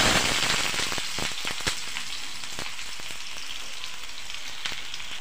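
Chopped onion added to hot oil with cumin, frying in a pan with a steady close sizzle and scattered crackling pops throughout, no voices.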